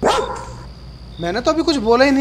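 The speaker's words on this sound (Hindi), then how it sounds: "ये कुत्ते क्यों भौंक रहे हैं?" A dog barks sharply at the start, then someone speaks over the fading noise, in a comic Hindi sketch set in a house.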